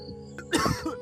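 A woman coughs and clears her throat in a Hindi cartoon story, a short raspy burst with two or three harsh coughs following a brief vocal lead-in, close and alone.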